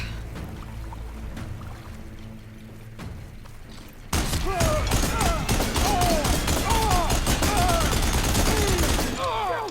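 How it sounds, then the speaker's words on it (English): Gunfire in the video game Horizon Forbidden West erupts midway as loud, rapid volleys of shots. Dense bursts continue to the end over game voices and effects, after a quieter opening. "Shooting!"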